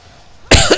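A single sharp cough bursts out after a moment of quiet, loud and close, with a second smaller hack right after.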